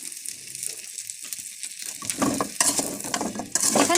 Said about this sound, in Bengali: এখানে আমি অল্প অল্প করে জলপাই নিয়ে নিয়েছি। ভালোভাবে অনবরত নেড়ে যেতে হবে।